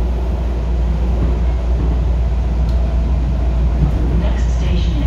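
A northbound Miami Metrorail train pulls away and rolls along, a loud, steady low rumble of the railcar in motion with faint squeals near the end, a voice speaking over it.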